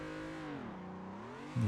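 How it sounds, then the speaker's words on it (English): Car engine in the Assetto Corsa racing sim, a steady mid-pitched drone whose harmonics dip and rise as revs change, ending in a brief louder surge of revving. "So at least you hear the car a bit better."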